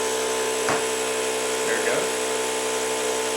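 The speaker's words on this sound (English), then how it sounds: "air pump that comes with a little fitting that screws onto the Presta valve, and it's electric, runs off the same battery as my drill" A battery-powered electric air pump, running off a drill battery and screwed onto a Presta valve, inflates a bicycle tire with a steady, loud motor drone throughout, while a person speaks briefly over it.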